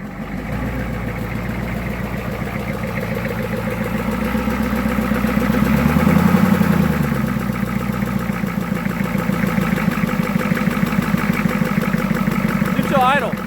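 A 1985 Ford F250 with a 6.9 IDI diesel engine idles steadily in neutral, a continuous low rumble that swells slightly midway, with people talking and cheering nearby.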